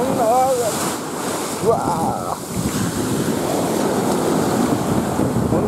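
Ocean waves washing onto an empty beach in Okinawa, a broad, continuous surf rush with heavy wind buffeting the microphone, while a man briefly exclaims close by.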